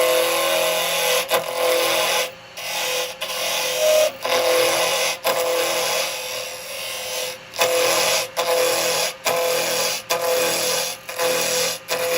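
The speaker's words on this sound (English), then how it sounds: "I'm just going to use a little square chisel" Square carbide chisel cutting a spinning wooden Christmas nutcracker on a lathe, a steady raspy scraping with repeated short breaks as the tool lifts off and re-engages, close and loud with no talking.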